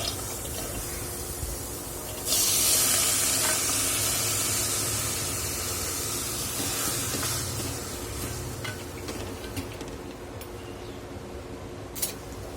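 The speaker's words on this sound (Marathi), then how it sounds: "तर कडवंच्या भाजत असताना आपण एक चमचाभर तेल घालून घेणार आहोत आणि तेलावर हे आधी छान भाजून घ्यायचं आहे आपल्याला" Spiny gourd (kantola) roasts in a spoonful of oil in a pan over low to medium heat, producing a steady close sizzle that swells into a brighter hiss as the oil goes in, then settles.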